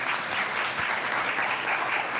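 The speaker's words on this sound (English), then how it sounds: "So if we could give them a round of applause, please" An audience at the Git Merge conference applauds the GitHub event team with dense, even clapping that stays steady for a couple of seconds.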